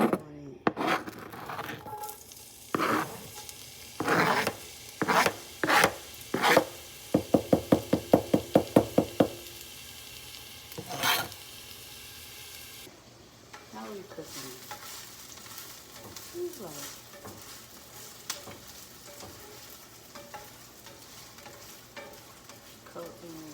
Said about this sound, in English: Mix the butter and the olive oil together. The aromatics are going in.